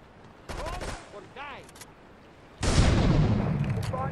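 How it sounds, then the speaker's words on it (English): Gunfire and explosions in the video game GTA 3, at a harbor: a short burst of shots, then a brief gap, then a loud sustained roar of blasts and firing that fills the rest, with radio-style chatter in between. "Investigate reports of gunfire and explosions."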